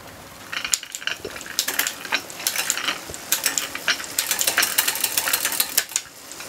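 Bicycle drivetrain with an 11-50 cassette and a mixed Shimano and KMC chain being shifted. Close, loud rapid clicking and ratcheting bursts repeat as the gears change, with no talk.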